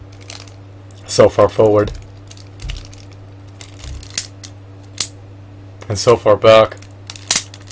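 Ratchet joints on a Buster Blader action figure from the Yu-Gi-Oh! line click in short, sharp, separate bursts close by. Someone talks between the clicks.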